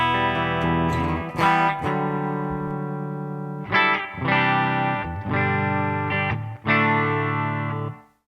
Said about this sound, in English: It's my bridge pickup clean.